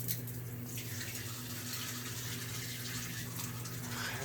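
A hotel shower in a Gyeongju bathroom runs steadily, water hissing and splashing close by under a low constant mechanical hum, with no voices.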